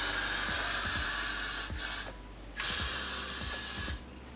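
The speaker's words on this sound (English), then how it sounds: "I'm gonna take a little bit of Gots to Be spray and just spray" Got2b hair spray hisses from an aerosol can in two bursts separated by a short pause, close and loud, with faint tapping underneath.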